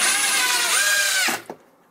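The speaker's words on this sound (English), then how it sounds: "it's easier if you have a drill like this" A cordless power drill whirs steadily at high speed, driving a screw to mount a small security camera, then winds down abruptly with a brief final click, loud and close.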